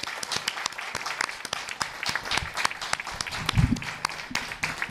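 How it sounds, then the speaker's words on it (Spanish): An audience at a congress claps together in sustained applause, dense crisp clapping from many hands that holds steady throughout, with a brief low thump partway through. "nos merecemos un gran aplauso por haber podido llegar hasta aquí."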